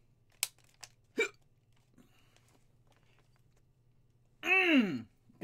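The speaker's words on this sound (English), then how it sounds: "Going to rage on these hiccups." A man hiccups several times in short sharp bursts, followed by a long, loud, falling groan-like sigh near the end, over a faint steady hum in a quiet room.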